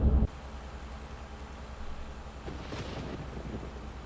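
Steady rain in Euro Truck Simulator, a soft continuous hiss with low rumbling, a loud thump at the start and a slightly heavier swell of patter toward the end.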